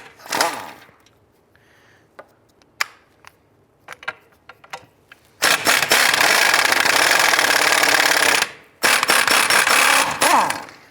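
A Honda Civic lower control arm bolt and nuts come off with scattered clicks and clanks, then long loud bursts of a pneumatic impact wrench hammering close by.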